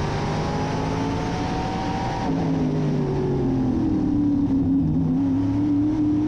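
A NASCAR Modified race car engine drones steadily on track in a racing video game, its pitch sliding down and then back up as the car works through a corner, loud and continuous with no talking.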